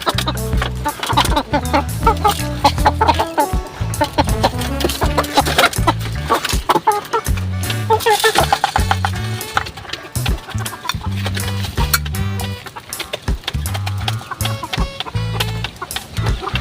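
Pet chickens clucking and squawking steadily while being fed corn outdoors behind a house, close and busy throughout, mixed with scattered rustling and pecking.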